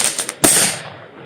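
A sharp firework bang bursts outdoors after a few smaller pops, followed by a crackling, hissing tail that fades over about a second.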